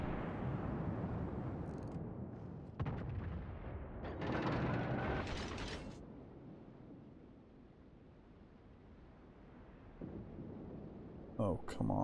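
Naval cannon fire in the World of Warships video game booms as a few heavy blasts with rumbling tails over low wind and sea noise.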